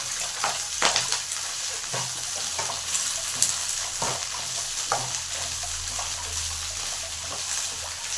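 Chopped ladyfingers (okra) frying in a pan, a constant loud sizzle broken by repeated scraping and clinking stirs of a spoon at an uneven pace, close up.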